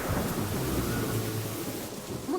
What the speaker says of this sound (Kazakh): Жаңбыр жауа ма?